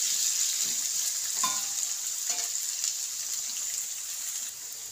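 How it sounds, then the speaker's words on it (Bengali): Chopped beans and carrots frying in a pan, a constant close crackling sizzle with a few light stirring knocks. "এইগুলোকে বিনস আর গাজরটা নিয়ে একটু আধ ভাজা করে ভেজে নেব।"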